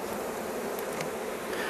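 Honeybees buzz steadily at an open hive as a queen is set among the frames, a dense, even drone close by that holds throughout without any voices.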